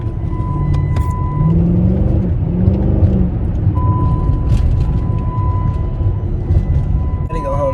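Deep, steady exhaust rumble from a straight-piped 5.7L Hemi in a Chrysler 300C, loud and close, idling with a few low revs, a faint steady whine above and a brief rustle at the end.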